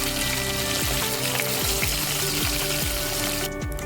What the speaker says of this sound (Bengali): সবগুলো চিকেন আমি দিয়ে দিয়েছি, দিয়ে এবার আমি ভেজে নেব ভালো করে।